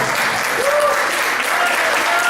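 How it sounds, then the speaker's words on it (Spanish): Congregation applause during a Spanish-language church sermon, a steady wash of clapping throughout, with a faint voice calling over it. "Un aplauso al Señor."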